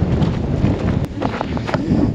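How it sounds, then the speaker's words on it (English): Strong wind at Egypt's first pyramid buffets the microphone with a heavy, rumbling roar that gusts unevenly throughout. "It's suddenly very windy."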